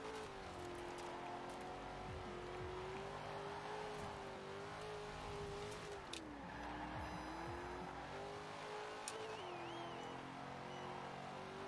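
1968 Pontiac Firebird driven in Forza Horizon 4, its engine droning loudly and steadily with pitch rising and dipping through gear changes and corners, plus brief tire squeals.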